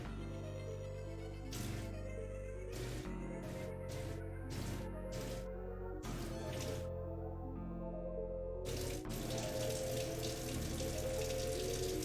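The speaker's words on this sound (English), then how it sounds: "now we're going to run both of these sides underwater and make sure that all the water goes in there" Tap water runs into a sink over halved vegetables in a home kitchen while cooking chili, a continuous splashing stream broken by repeated sharp clatters and bursts as the pieces move under the flow.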